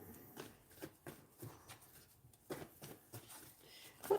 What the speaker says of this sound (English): And let's shuffle the cards again.